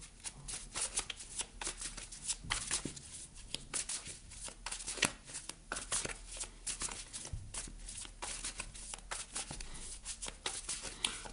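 Tarot cards are shuffled in quick, crisp riffling bursts, close and continuous with repeated snaps and flutters for a card reading, with no talking.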